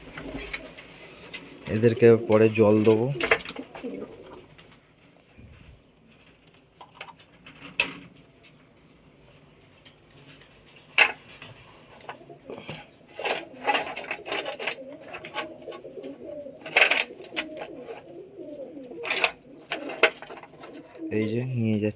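Pigeons in a pigeon house coo in low, throaty bursts and shuffle about, with scattered sharp clicks and knocks between, while someone speaks nearby.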